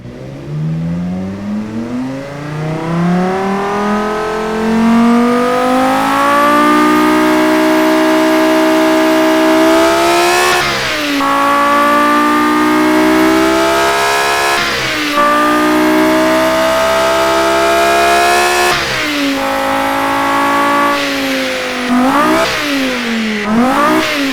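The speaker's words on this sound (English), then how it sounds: "the V10 always sounds sounds very nice" A V10 engine accelerates hard through several gears, its loud, close whine climbing steadily and briefly dropping at each upshift before rising again, with no talk over it.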